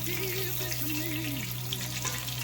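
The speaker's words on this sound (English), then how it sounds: "We're going to let this fry up and get good golden brown here." Veal frying in a oiled pan for veal parmesan, giving a steady, loud sizzle that runs without a break from start to end, close up and with no voices.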